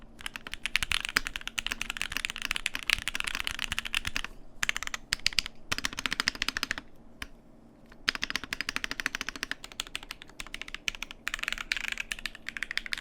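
Shadow80 mechanical keyboard alpha keys clatter in rapid, continuous typing bursts with a few short pauses, close and crisp, no voices.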